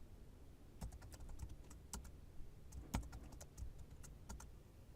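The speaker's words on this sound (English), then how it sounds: "I'll need to type in my current password" A computer keyboard clicks quietly as a password is entered, a string of soft, irregular keystrokes at close range over a low background hum.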